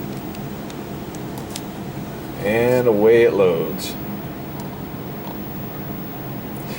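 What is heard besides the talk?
arcade machine coin meter counting up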